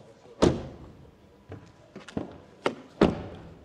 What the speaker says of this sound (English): Door closing sounds.